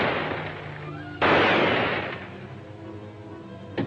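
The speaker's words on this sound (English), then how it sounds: "You fired 3 shots at Blanker and 2 at me." Gunshots from a pistol in a 1943 adventure serial: a sharp loud crack with a long decaying reverberant tail, followed by a second fainter report near the end, amid an old noisy soundtrack.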